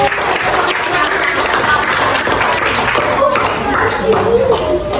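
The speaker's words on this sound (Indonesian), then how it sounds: "Beri tepuk tangan dulu" Students in a classroom clap together, a fairly loud, close, dense patter of hands that runs steadily throughout, with some voices mixed in.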